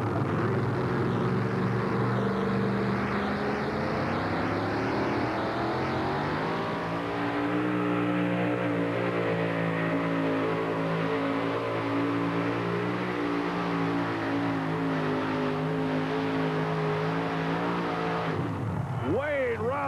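A Dodge Ram pulling truck, the little red truck, roars through a full-power pull at an NTPA truck pull in Rock Springs, its engine note climbing and holding loud and steady for nearly twenty seconds before dropping off at the end.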